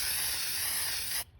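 A steady hissing aerosol spray onto a window during an industrial renovation, lasting just over a second, close and loud, cutting off abruptly.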